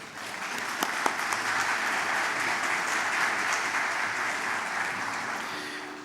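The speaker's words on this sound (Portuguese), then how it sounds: "Por favor, Zilo, eu peço uma salva de palmas." Sustained audience applause in a hall at an agribusiness panel, dense and even from start to finish, with a few louder individual claps rising above the wash.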